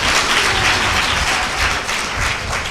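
An audience claps steadily in a dense, loud wash of applause during a Tamil church sermon, with no talk over it.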